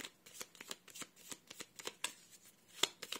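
Tarot cards being shuffled and drawn make a quick run of close, crisp riffling and flicking bursts in an uneven rhythm, with one sharper snap near the end.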